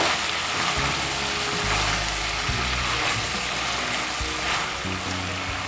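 Sweet potato with dried taki fish sautéing in a pan: a loud, steady, close sizzle with low scraping stirs throughout and no talking.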